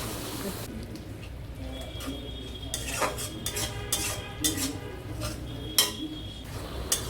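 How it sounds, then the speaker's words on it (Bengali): Garlic and ginger paste being stirred and fried in a pan, soft sizzling under repeated scraping and clinking of a spoon against the metal, fairly quiet and close. "এগুলো আমি আবার ভালো করে মিশিয়ে কষিয়ে নিব।"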